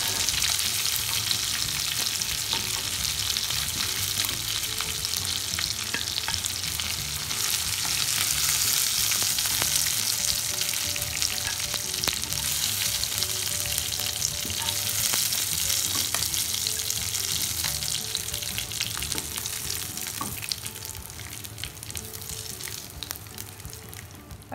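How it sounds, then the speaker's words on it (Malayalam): Chicken fries in butter in a pan over a medium flame, giving a steady, close, loud sizzle with crackling spatter that holds throughout without any voices. "ഞാനിപ്പോൾ ഇവിടെ ഒരു മീഡിയം ഫ്ലെയിമിലാണ് ചിക്കൻ ഫ്രൈ ചെയ്തെടുക്കാൻ പോകുന്നത്"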